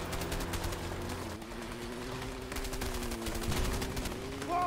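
Rapid gunfire in the A Way Out video game during a plane gunfight, a dense run of sharp repeated shots with a steady mechanical drone beneath, moderately loud throughout.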